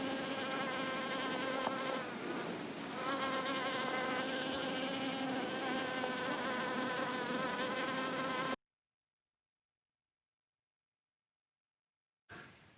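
Steady, dense insect buzzing as many small fairy bees and honeybees hover close by around Mojave poppy flowers, droning continuously before cutting to silence, then briefly resuming at the end.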